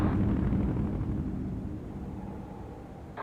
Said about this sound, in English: Artillery strike on the way. More incoming shells!